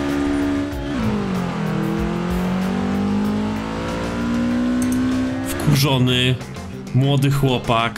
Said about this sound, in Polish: jedzie na pełnym gazie, tyle ile fabryka dała w tym Golfie